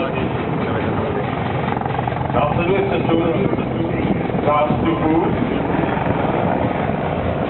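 Mi-171 military helicopter at the NATO Days air show in Ostrava, rotor and turbine drone running steadily throughout beneath a male announcer's commentary over loudspeakers.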